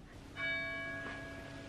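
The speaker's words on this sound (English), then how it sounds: "It's dead on 8 o'clock, so the bells are ringing." A church bell strikes for eight o'clock, one clear resonant stroke ringing out and decaying slowly, faint and somewhat distant over quiet indoor background.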